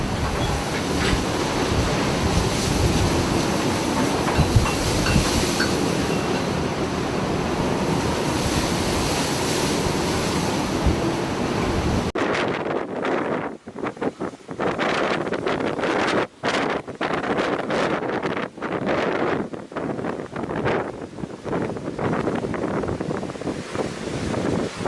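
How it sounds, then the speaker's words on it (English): Powerful sea waves crash near rocks in a storm as a small fishing boat passes, a loud, continuous roar that gives way to harsher buffeting wind noise partway through. "A small fishing boat passes powerful waves near the rocks."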